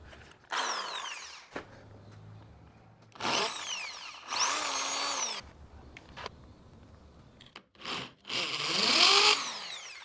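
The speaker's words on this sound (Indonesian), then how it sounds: "pertama-tama ini saya bor dulu menggunakan mata bor kaca ya" A power drill with a glass bit whines through tile in several separate bursts, rising and falling in pitch, with short quiet gaps between bursts and no talking.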